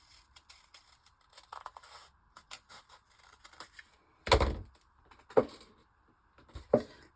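Scissors snipping old glue paper at a journaling desk, a run of small light clicks and rustles followed by three louder, sharper cuts spaced about a second apart, close and alone.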